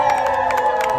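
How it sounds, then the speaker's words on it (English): Crowd at a lumberjack show during the Medicine Hat Stampede cheering loudly, a brief dense burst of shouts and whoops with children's voices mixed in. "These guys better cheer really loud."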